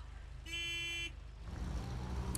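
In the video game Snowrunner, a single truck horn blares for about half a second over a low engine drone, which then revs louder as the truck strains forward through mud.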